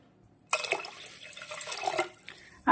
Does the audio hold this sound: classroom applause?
no